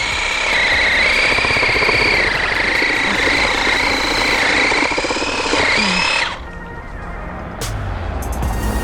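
A Revolt electric hedge trimmer strains through a thick branch, a loud steady motor whine with a wavering pitch and buzzy blade chatter for about six seconds, then it drops to a quieter idle hum.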